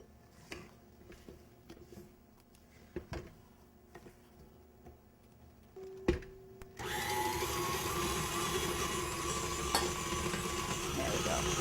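Electric mixer beating petit four batter: a few quiet taps and knocks, then the motor starts and holds a loud, steady whirring drone to the end.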